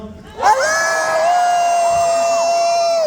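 A convention crowd at Dragon Con cheers loudly, with one high, sustained whoop rising above the noise and holding for a few seconds before dropping off.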